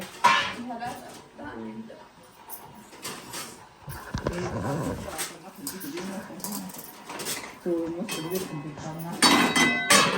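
Spoons are pulled out and dishes clink in a home kitchen while aloo parathas, methi bhaji and potato chutney are being prepared, with bright metallic clatters scattered under frequent nearby talk.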